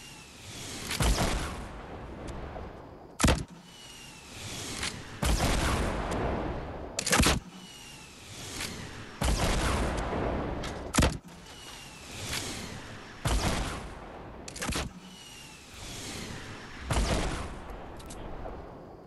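Video game gunfire rattles out in repeated sharp bursts and booms with brief whooshes between, moderately loud and spread at an uneven rhythm, with no talking.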